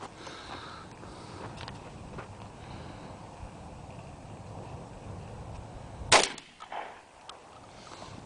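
One sharp, loud shotgun blast rings out at an outdoor shooting contest after a stretch of steady background rumble, followed by a short echo and a brief quieter thump.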